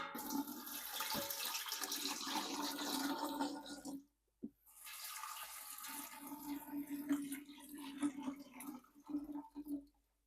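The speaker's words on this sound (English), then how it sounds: "we're going to be covering with hot water" Hot water gushes and splashes over flowers and leaves in a dye pot for yarn. A loud steady pour breaks off briefly with a short gap, then a second pour resumes more unevenly and tapers off.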